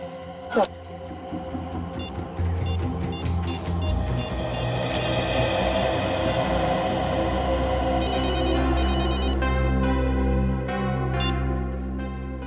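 A telephone rings repeatedly in a CID investigation scene, a chiming electronic tone under speech, vehicle hum and background music.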